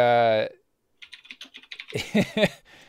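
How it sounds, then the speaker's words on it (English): Someone typing on a computer keyboard: a loose run of light key clicks in a broken rhythm, close by, partly under a voice. "he starts typing in his computer"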